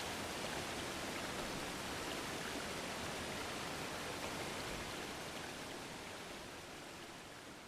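Steady rushing water in the video game Exit 8 flows continuously like a stream or waterfall, a dense even hiss that fades slightly toward the end, with no voices.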